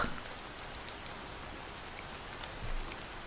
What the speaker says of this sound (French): laisse le son de la pluie te bercer.